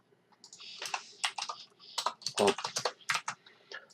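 Fingers type code on a computer keyboard close by in a quiet room, rapid irregular clacks and key taps running in uneven bursts throughout.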